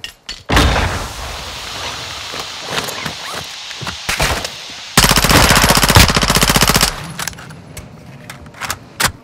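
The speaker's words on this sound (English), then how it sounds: "I'm taking fire." Loud automatic gunfire in Call of Duty Modern Warfare II DMZ, with sharp single shots and bursts followed by a long sustained rattle of machine-gun fire, close and dominant over faint game noise.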